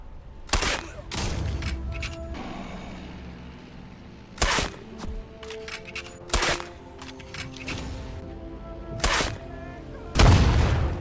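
Pistols firing in the video games Medal of Honor and Sniper Elite, heard as loud, sharp single shots spaced a second or more apart, each with a short ringing tail over a low background.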